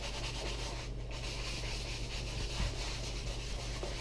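Maple and oak wood being scuff-sanded by hand: a continuous, even rubbing hiss with a brief lull, close and moderately quiet, with no talking.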